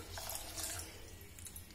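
Water is poured into washed, soaking moong dal and rice for khichdi, a faint continuous splashing trickle at a steady level with no talking.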